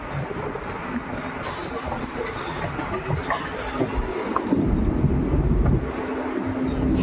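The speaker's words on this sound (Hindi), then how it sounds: "तो गाइस ट्रेन की स्पीड वापस स्लो हो रही है क्योंकि ट्रेन बढ़ रही है हमारे कुचामन रेलवे स्टेशन की तरफ" Runicha Express train slowing on its approach to Kuchaman station in Rajasthan: a steady broadband rumble of wheels and carriage noise, fairly loud and close, with faint high squeals and a low hum, no talk.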